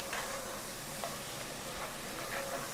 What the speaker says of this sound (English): Now, that tomato paste needs to cook.